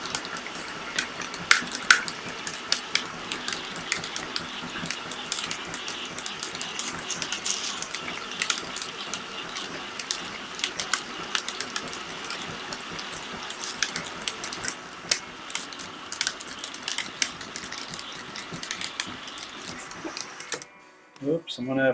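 Filament spool rewinder winding 3D printer filament, a steady close mechanical whir with dense ratcheting clicks running for about twenty seconds before stopping abruptly, with a few faint thumps at the end.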